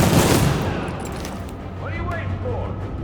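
Heavy gunfire in Tom Clancy's The Division, a loud volley at the start that fades into scattered distant shots, with a voice heard partway through.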